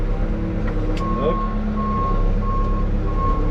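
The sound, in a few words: reversing beeps of a new farm loader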